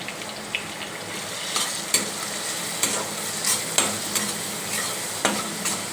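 Chopped onions frying in a pan with salt and turmeric for a ridge gourd curry, a steady close sizzle broken by occasional scrapes and taps of a stirring spoon.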